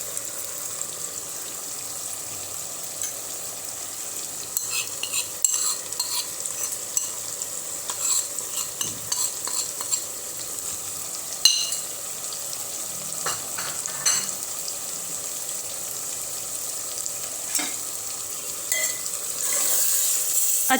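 Keema stirred with powdered spices in a sizzling pan, a spatula scraping and clinking irregularly against the metal over a constant low fry.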